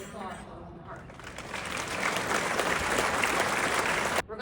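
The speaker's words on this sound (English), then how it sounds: "Round of applause for the heart." A crowd applauds at a business-themed gathering, a dense wash of clapping that swells and holds steady at full volume before cutting off abruptly near the end, with a brief voice afterward.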